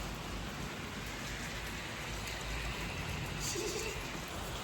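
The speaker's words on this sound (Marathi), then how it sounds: "फुल पाऊस चालू आहे तरी पण शूटिंग कंटिन्यू." Heavy rain falls on an outdoor film set, a dense, steady hiss that fills the whole stretch with no other sound standing out.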